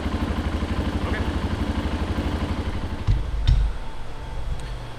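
An Arctic Cat ATV engine, its carburetor just cleaned, idles close by with a steady rapid putter, then a short clunk and rougher, lower rumble near the end.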